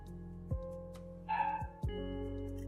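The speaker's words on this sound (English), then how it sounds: "If you hear dogs barking, don't worry about that." Dogs bark in the background during a live anime chat stream: a brief cluster of barks rises faintly over a steady low hum and a few thumps, then fades.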